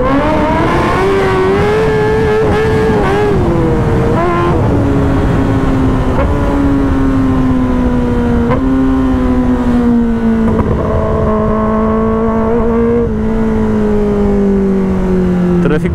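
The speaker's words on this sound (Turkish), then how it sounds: "hoşuma gidiyor şu motorun sesini dinlemek" A Kawasaki ZX-10R sport motorcycle engine drones steadily and close, its pitch rising and falling gently as it accelerates, continuous throughout with no pauses.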